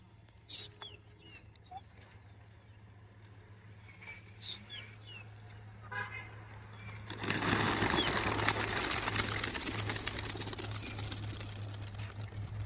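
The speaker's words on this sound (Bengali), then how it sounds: "এক একে কবুতরগুলো ছাড়ি" Pigeons released one by one from a loft give scattered coos and soft wing sounds, then a sudden loud burst of wing flapping as the flock takes off, with faint voices in the background.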